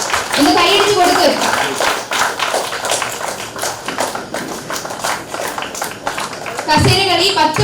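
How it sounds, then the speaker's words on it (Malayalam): Clapping breaks out for prize winners at a club Onam celebration, a crowd applauding in bursts while an announcer keeps talking over it at close range. "അവരുടെ കൈയടിയോട് ഒന്ന് കൈയടിച്ച് കൊടുക്ക്."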